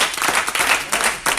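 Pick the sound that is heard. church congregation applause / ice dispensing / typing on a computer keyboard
church congregation applause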